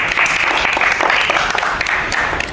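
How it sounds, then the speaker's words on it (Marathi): Applause from a group of people at a reel shoot, a steady dense clapping that fills the whole stretch at fairly close range. "आगा कशी वाजत आहेत टाळ्या"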